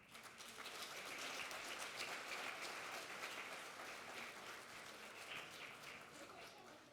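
An audience applauds after a diploma is presented at a conference, steady massed clapping at a moderate distance that holds for several seconds and eases slightly toward the end.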